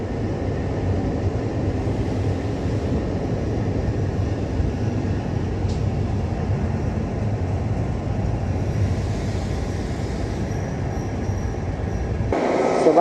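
A train at Udon Thani railway station in Thailand gives a steady, loud low rumble with a mechanical rolling drone that continues for many seconds, ending with a brief sharper burst of noise.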